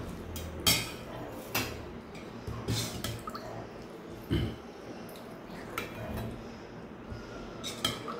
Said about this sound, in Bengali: ডালটা বাটিতে নিলাম, শেষে খাবো সেজন্য।